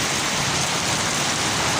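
Heavy rain pours steadily in Karachi, a dense, loud, continuous hiss of drops striking surfaces with no pauses.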